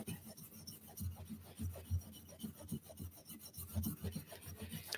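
A garden tool blade is rubbed back and forth on a thousand-grit oiled sharpening stone, a quiet, close rasping that comes in steady repeated strokes.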